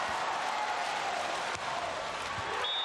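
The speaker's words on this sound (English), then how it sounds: "No matter which team the crowd are cheering for, they're all on their feet in appreciation." A beach volleyball crowd at a World Championships quarterfinal between Norway and Italy claps and cheers steadily. The applause is a dense, even wash that stays loud and continuous throughout.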